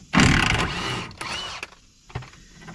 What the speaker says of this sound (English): I'm taking the cross member bolts out now.